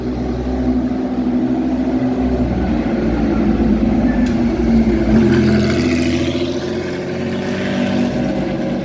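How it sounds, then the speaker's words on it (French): A Porsche 911 sports car at the Pau-Arnos circuit, its engine a steady loud drone that swells slightly as it passes, with no talk over it. "La Porsche 911. J'entends un bruit."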